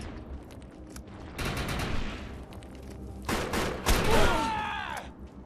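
Assault rifle fire in the video game Defiance, loud overlapping bursts of shots, with a dense burst in the middle and another around the four-second mark trailing into ringing, whining tails.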